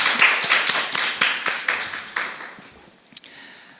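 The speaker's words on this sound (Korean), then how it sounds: "같이 박수 치면서 환영하겠습니다" A church congregation claps together in welcome for newcomers during a Korean-language worship service, a steady round of hand claps that slowly fades out.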